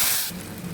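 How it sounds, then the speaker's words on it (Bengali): Fried garlic tempering poured into cooked lentils, giving a loud burst of hissing sizzle that quickly settles into a softer, steady crackle, close and with no talk. "রসুন ভাজা হয়ে গেছে, দিয়ে দিলাম।"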